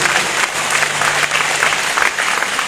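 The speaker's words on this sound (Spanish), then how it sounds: "Den un aplauso fuerte a Jesucristo" Loud, sustained applause from a church congregation at an evangelistic preaching service, a thick close wall of clapping that stays strong throughout with slight pulsing swells.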